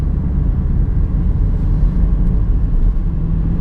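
Steady low engine and road rumble from inside a 2007 Vauxhall Astra 1.3 CDTi diesel hatchback with a six-speed gearbox as it drives along, a continuous even drone with no talking.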